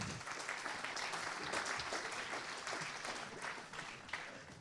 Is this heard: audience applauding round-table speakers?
yes